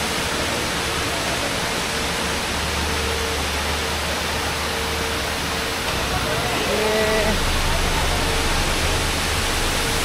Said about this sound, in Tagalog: Ang ganda ng waterfalls.